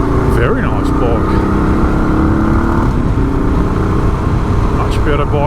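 A Suzuki DR 650 motorcycle engine drones loud and steady throughout a ride, with wind rush blended in and a rider's voice speaking over it.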